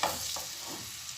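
A veal roast searing in a pan of butter mixed with fat gives a brief, soft, steady sizzle with a slight shift as the meat settles in.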